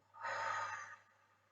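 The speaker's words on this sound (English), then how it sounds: "and exhale." A slow, steady exhale during a seated chair yoga breathing exercise, one soft airy breath of about a second that swells, then trails off quietly, close and alone.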